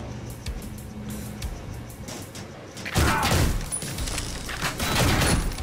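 Gunfire and explosive impacts from the first-person shooter video game Ion Fury; quieter game ambience gives way to a loud burst of rapid shots and crashing blasts that continues to the end.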